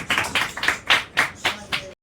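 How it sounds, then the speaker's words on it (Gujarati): Several people clap in applause for a contest winner, about seven distinct hand claps in a loose, uneven rhythm, fairly close and moderately loud, stopping abruptly. "તો તાળીઓના ગળગળાટથી વધાવીએ એભાભાઈને"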